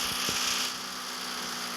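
A rally Ford GT40 in the game Car Parking Multiplayer held at full throttle: a steady, buzzing high-revving engine drone with a slight swell early on, then a level sustained tone, fairly quiet and with no talk.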